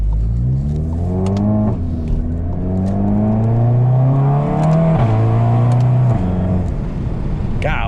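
A turbocharged VW MK7 GTI fitted with a GTX3071R turbo accelerates hard through several gears, its engine note climbing steadily then dropping at each shift, loud and continuous from inside the car.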